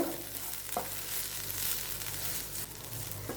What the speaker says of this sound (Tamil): இப்போ நல்லா கிளறி விடுங்க